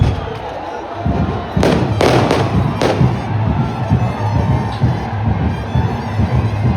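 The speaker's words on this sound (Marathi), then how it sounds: "ज्यांनी फटाके फोडले त्यांना ताब्यात घ्यायचं आहे" Firecrackers set off during the Ekvira Aai palkhi procession at Kalyan Koliwada, with several sharp loud bangs early on, then a dense crowd din and someone speaking over a loudspeaker.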